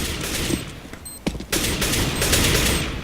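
P90 submachine gun fire in CS:GO, rapid crackling automatic bursts close up with a brief lull partway through, then dense continuous firing to the end.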